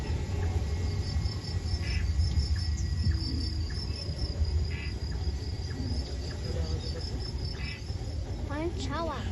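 A dense chorus of crickets chirps steadily at night in a forest, a continuous high-pitched trilling carpet with occasional faint bird calls drifting over it.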